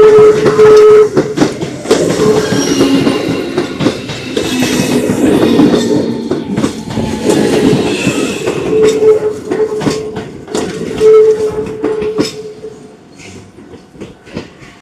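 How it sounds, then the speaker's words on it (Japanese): A train pulls in at platform 3 of a Japanese station with a loud, close rumble, a run of rail clicks and a brief high tone before the noise fades, with no talk. "またまた3番線に列車がやってきました"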